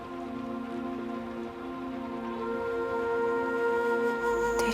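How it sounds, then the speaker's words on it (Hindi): Steady rain falls continuously at a moderate level under a sustained background tone, with no talking, in a scene from a Pakistani drama. "इस बारिश से बहुत डर लग रहा है"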